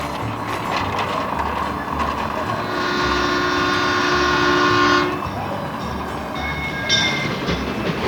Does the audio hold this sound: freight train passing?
yes